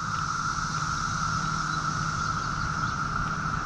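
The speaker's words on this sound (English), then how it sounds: "You hear the cicadas?" Cicadas buzz in a continuous, even high drone around a stopped hotshot truck, steady and moderately loud over a low background rumble, with no talking.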